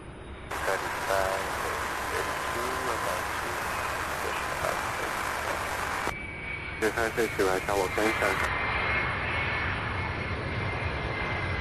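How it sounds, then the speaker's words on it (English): A Delta airliner lands on runway 35 right at Louisville's SDF airport, its jet engines making a continuous broad roar in the background while people talk over it. "That Delta landing on 35 right in the backdrop there."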